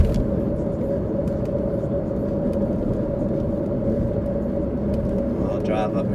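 Car driving through the city limits of Cleveland, Tennessee, with a steady, close engine and road rumble held throughout and no clear break.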